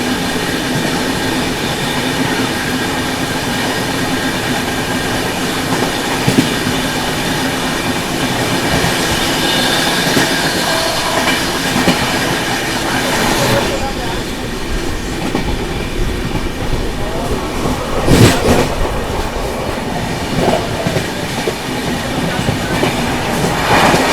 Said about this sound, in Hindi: एक और टावर तोड़ ओवरटेक करने जा रही है अपनी राजधानी एक्सप्रेस इस जर्नी में